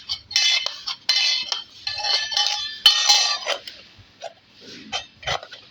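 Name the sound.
metal utensils clanking while being washed nearby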